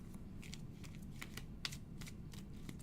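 Tarot cards shuffled by hand at a table, a run of crisp papery riffles and taps coming in quick uneven bursts, close and fairly quiet against low room hum.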